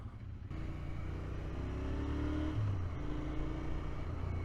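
A Royal Enfield Interceptor 650 motorcycle engine runs steadily at close range with a low, throaty drone and a slight rise in pitch partway through, no voices over it.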